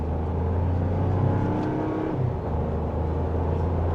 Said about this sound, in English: And just a mild acceleration, not even quarter throttle if that, and we got up to speed.